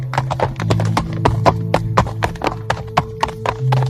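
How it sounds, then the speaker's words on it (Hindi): Hooves of a white horse ridden by a soldier clip-clopping in a steady, close rhythm of sharp repeated strikes, with a low droning tone underneath. "सामने से एक सिपाही सफेद घोड़े पर सवार होकर उनकी ही तरफ बढ़ने लगता है"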